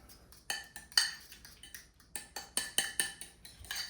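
Utensil clinking and scraping against a bowl while mixing cream cheese, a rhythmic series of sharp taps, close and fairly quiet, with no talking.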